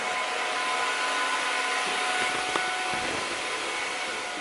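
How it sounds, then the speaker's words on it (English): A hair dryer whirs steadily with a loud, even airy roar that holds unchanged from start to finish. "She would start the blow dryer right when I'm starting my vlog."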